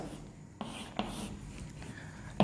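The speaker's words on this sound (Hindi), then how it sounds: "तो मैं यहाँ लिख देता हूँ" Chalk or marker writing notes on a board in a biology classroom lesson, faint scratchy strokes with a few sharp taps, quiet and close, with no talking.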